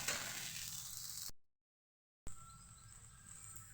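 Ragi dosa cooking on a hot pan, a soft steady sizzle that cuts out for about a second of silence and then resumes faintly.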